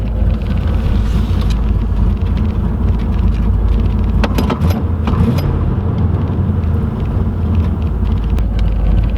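A Chevrolet Camaro IROC-Z with a small-block V8 engine cruises along, heard from inside as a loud, steady low rumble with road and wind noise throughout and a few faint clicks in the middle.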